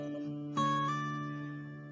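Fingerpicked acoustic guitar plays the intro of a song: a quiet held chord, then a plucked pinch of strings and a hammer-on, with notes ringing out and slowly fading, no voice.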